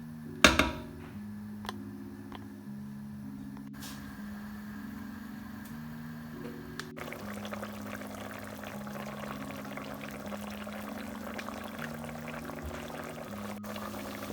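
Chicken curry boiling in a pot, giving a soft, steady bubbling hiss that grows denser after a sharp opening clatter, with a low sustained tone underneath.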